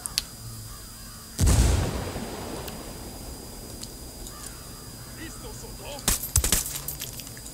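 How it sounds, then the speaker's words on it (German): A heavy grenade explosion in Ghost Recon Wildlands, a deep loud boom with a rumbling tail, followed later by a burst of sharp distant gunfire cracks. "Granate fliegt."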